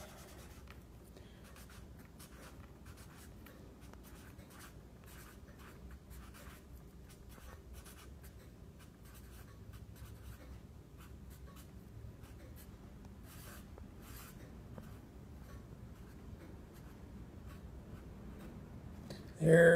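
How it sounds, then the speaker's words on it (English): A pen scratches steadily across a Roger Rabbit collectible while a signature is written, soft continuous scribbling close up with brief pauses and no talking. "And I'm going to sign Roger's name too."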